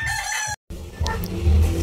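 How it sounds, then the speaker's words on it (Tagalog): A fighting rooster crows loudly nearby, a short strained call cut by a brief gap, followed by rustling and low clucking. "bali ito yung ating mga panlaban na manok"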